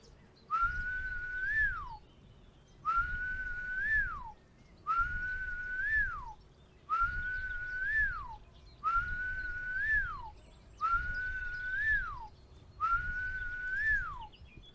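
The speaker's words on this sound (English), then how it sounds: "Joe stood beneath the thick green trees of the old oak tree and whistled loudly 7" Seven loud whistles beneath an old oak tree, each a rising then falling tone about two seconds long, evenly spaced and alone over a low background rumble.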